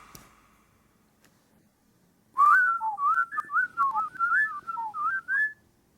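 After a brief quiet start, a person whistles a melodic tune alone, about a dozen clear pitched notes rising and falling in a steady phrase.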